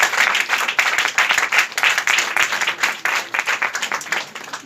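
A church congregation applauds the Lord during a Sunday service, dense steady clapping from many hands filling the room, close and sustained throughout with no voices over it.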